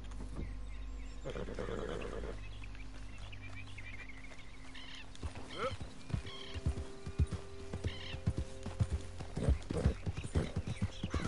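Horse hooves clip-clop on a hard surface, starting faint and growing into a loud, close, uneven series of strikes, with a brief whinny-like sound and chirps in the background.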